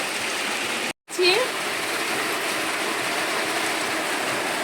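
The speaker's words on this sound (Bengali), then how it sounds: "এত জোরে বৃষ্টিটা আসলো কাল সারা রাত কিন্তু এরকম ভীষণ জোরে বৃষ্টি হয়েছে" A loud, steady wash of heavy rainfall fills the air, cut by a momentary silent gap near the start before the downpour resumes at the same strength.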